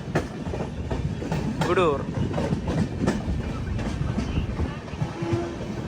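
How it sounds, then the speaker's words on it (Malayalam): Kerala Express from New Delhi to Thiruvananthapuram approaching Gudur Junction, heard from a 3AC coach: continuous rolling rumble with clickety-clack beats, a brief whistle-like rising tone, and a voice talking over the train noise. "ഗുഡൂർ ജംഗ്ഷൻ റെയിൽവേ സ്റ്റേഷനിലേക്ക് ഇതാ നമ്മുടെ ട്രെയിൻ എത്തിക്കൊണ്ടിരിക്കുകയാണ്."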